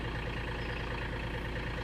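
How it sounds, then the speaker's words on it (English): A UTV's engine idles steadily while warming up on a farm, a low, even rumble with a soft rhythmic throb, close and continuous with no talk over it. "I'm letting the UTV warm up"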